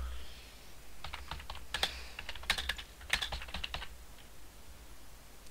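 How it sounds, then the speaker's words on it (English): Someone types a name on a computer keyboard, quick bursts of close, crisp key clicks with short pauses between them over a low background hum. "Hang on, guys, let me just type this."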